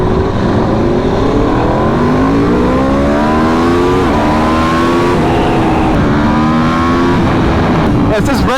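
A 2024 Aprilia RSV4 1100 Factory sportbike with a Leo Vinci slip-on exhaust, ridden on a test ride near Miami, roars loud and close, its engine note climbing repeatedly as it pulls through the gears, with wind rush throughout.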